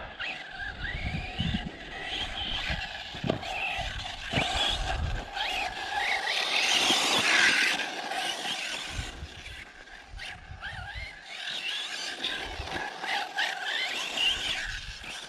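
A Team Corally Python RC car runs off-road away from the track, its electric motor whining and rising and falling as it speeds over rough ground, moderately close with scrapes and bumps.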